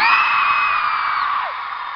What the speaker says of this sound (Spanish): regálenme un aplauso y un grito para mi hermano, Raúl Roma.